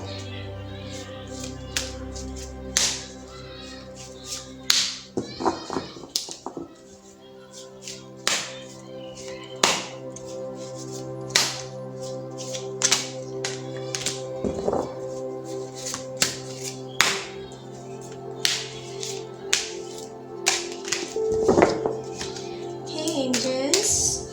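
Tarot cards are shuffled by hand in a repeated series of crisp riffling and slapping bursts at an uneven rhythm, close and fairly loud, with occasional soft talk in the background.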